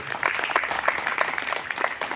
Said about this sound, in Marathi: खूप जोरात टाळ्या होऊन जाऊ त्यांच्यासाठी